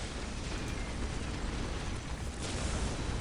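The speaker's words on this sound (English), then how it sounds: "I am also using this strafing run." Strafing run explosions in the strategy game Dawn of War Soulstorm, a dense unbroken roar of blasts and rumbling bursts, loud and continuous throughout, with no voice over it.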